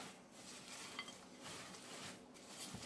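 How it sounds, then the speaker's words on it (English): Melted chocolate mixed with biscuit pieces for rocky road is stirred in a bowl, producing a steady, close, soft scraping and churning sound that continues without pause. "So we're going to add our biscuit. We want to give that a stir."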